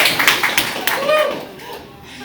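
A small gathering at a celebration of Jim Bierbaum claps briefly, with a few sharp scattered claps that soon fade into quieter room sound and murmuring voices.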